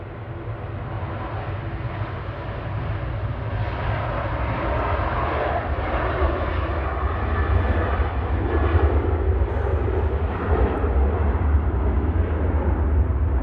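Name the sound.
Ryanair jet departing Manchester Airport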